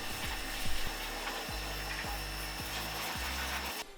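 A brush scrubs degreaser over metal parts in steady back-and-forth strokes, a close rubbing rasp repeating rhythmically with faint background hiss, with no talking.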